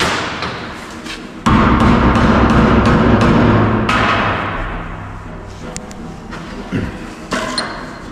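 Prying with a screwdriver and a metal wedge during a break-in, a sharp metallic thud followed by scraping, creaking strain and a few lighter knocks and clicks, close and loud.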